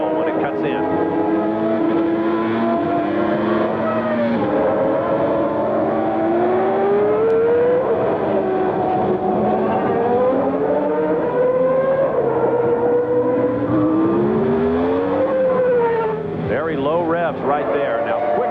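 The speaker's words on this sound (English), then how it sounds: "Let's listen to the sound of this Renault working in Damon Hill's car." Renault V10 engine in Damon Hill's 1993 Formula 1 car at the San Marino Grand Prix, loud and continuous, pitch sweeping up and down through gear changes and corners, with a commentator talking over it.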